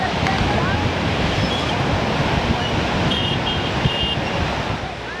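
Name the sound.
big sea waves at Kuakata beach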